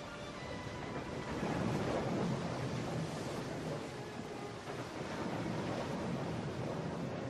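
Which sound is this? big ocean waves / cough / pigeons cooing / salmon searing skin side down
big ocean waves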